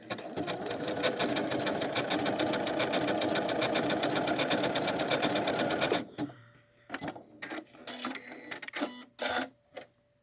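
A Janome Skyline S7 sewing machine runs steadily for about six seconds, stitching decorative stitches on fabric in a fast, even mechanical chatter, then stops, leaving a few short clicks and light handling noises.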